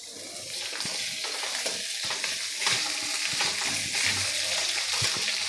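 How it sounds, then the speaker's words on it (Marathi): Cut potatoes stirred into okra frying in a pan, a steady hiss of sizzling oil with scraping spatula strokes and soft clacks throughout, close and continuous. "आता यामध्ये घालायचं आहे आपण जो बटाटा कट केलेला तो बटाटा यामध्ये आपल्याला घालून घ्यायचा आहे आणि पुन्हा एकदा छान मिक्स करून घ्यायचं आहे"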